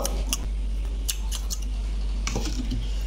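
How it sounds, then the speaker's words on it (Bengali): Scissors snipping kitchen thread while wrapping Bengali shrimp paturi, a quick series of sharp close snips and clicks over a steady low hum. "সুতোটা আমি কেটে নেব"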